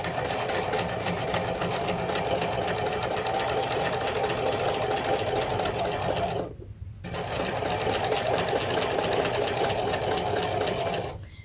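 A home sewing machine stitches slowly and steadily along the window frame of a Cathedral Windows quilted tote, tacking it down with a continuous close whirr that breaks off briefly and then resumes.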